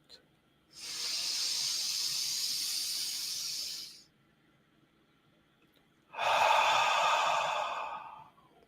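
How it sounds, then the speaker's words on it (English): Slow deep breathing during a grounding exercise: one long airy inhale lasting about three seconds, a pause, then a strong hissing exhale, both close and clear. "We're going to take a deep breath in through our nose on for a 3 count"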